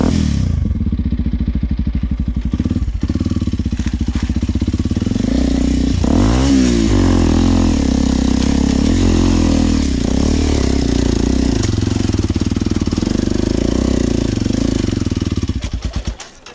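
Motorcycle engine revving hard while climbing a steep hill on the Pacet route in East Java, loud and close with sustained straining roar, pitch swells and clattering, fading out at the end.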